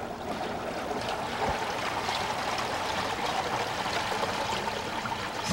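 Gray water from an RV holding tank draining out, heard as a steady rushing, trickling flow of liquid that stays fairly even and close without pause, with no talking over it.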